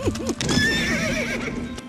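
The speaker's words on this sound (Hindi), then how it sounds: "महाराज, घोड़े आगे नहीं बढ़ रहे।" A horse gives a loud, near whinny with a rising-and-falling wavering call, followed by further shorter neighs and light hoof clip-clop, with no talking over it.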